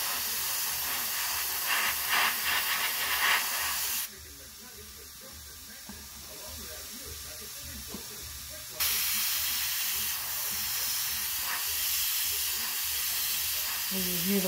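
Steady hiss of pressurized air from a sprayer during line work, shading and lacing, continuous and close, dropping quieter for a few seconds in the middle before returning; no speech.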